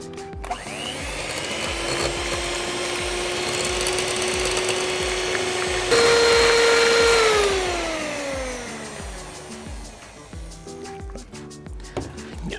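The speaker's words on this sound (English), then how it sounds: "Now I beat that up in the highest setting of my hand beater" Electric hand beater on its highest setting whisking key lime pie filling, a loud steady whine that rises in pitch midway and then slowly drops, running continuously without speech.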